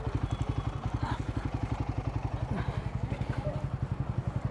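A motorcycle idles close by while it is readied for a ride, its engine thumping in an even, rapid pulse throughout.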